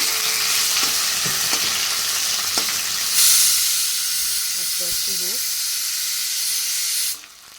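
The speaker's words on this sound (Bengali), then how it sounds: "2 পিস কাটা মাছ ছিল, সেটাকে ভাজা বসিয়ে দিয়েছি।" Two cut fish pieces frying in hot oil give a loud, steady close sizzle and hiss, with a few clinks and faint voice-like sounds partway through before the sound drops off at the end.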